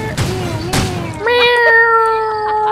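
Cat meows over voice chat during a Rules of Survival match, a drawn-out loud meow with a wavering pitch following a burst of noisy chatter.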